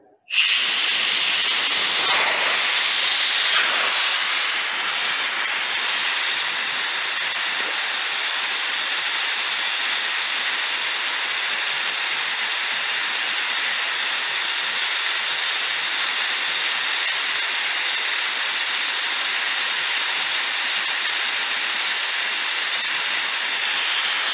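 A Kohands KC-752SN air compressor vents compressed air in a loud, steady hiss. The hiss starts abruptly and runs unbroken for over twenty seconds, close and alone with no talk.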